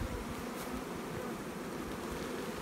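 Surplus honeybees buzz around a hive box fitted with a box of foundation, a steady close drone of many wings holding at a constant level without pause.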